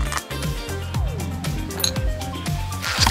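Coins and valuables dropped into a glass jar at the beach, a quick run of bright clinks and rattles with sliding glassy taps, close and fairly loud over background sound.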